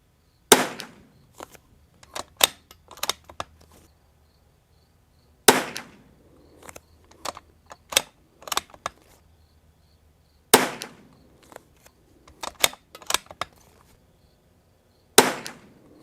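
Rimfire rifle shots with Eley Club ammunition from a Zermatt RimX or Winchester 52, fired outdoors at a target: four sharp, loud reports spaced about five seconds apart, each followed by scattered clicks and handling noises of bolt work.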